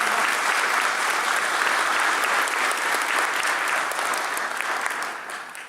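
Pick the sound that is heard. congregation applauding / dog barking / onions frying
congregation applauding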